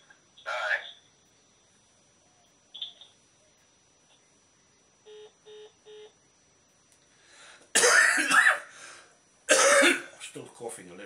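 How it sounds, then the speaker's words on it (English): A person gives two loud, harsh, close coughing bursts near the end, after a quiet stretch with a few faint sounds and short electronic beeps. "Still coughing a little bit."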